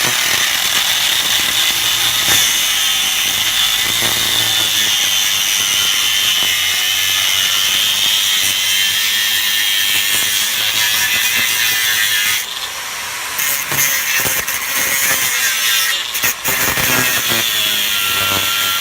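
A 9-inch diamond-blade grinder cutting rebar that sticks out of a concrete surface, a loud continuous high-pitched whine and grind held close for the whole stretch, its tone shifting as the blade bites. No one speaks.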